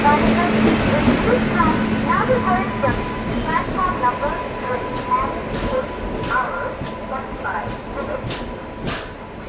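The Bangalore Kanyakumari Express pulls into a station platform with a low continuous rumble and a few clanks and squeals. Station noise and voices murmur underneath throughout.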